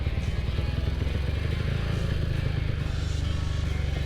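Honda CB Tiger with a 300cc block climbing uphill in first gear, its engine a loud, steady close-up rumble with a throbbing low pulse that holds unbroken throughout.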